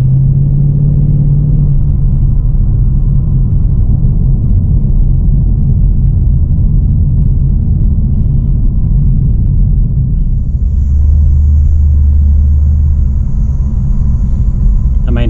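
A 2014 Holden HSV VF Senator with a cammed V8 and automatic gearbox rumbles steadily while being driven, a loud, continuous low engine drone heard from inside.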